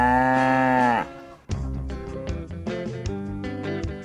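A cow on a farm lets out one long, loud, close moo lasting about a second, followed by a series of shorter, rhythmic clattering and grunting sounds nearby.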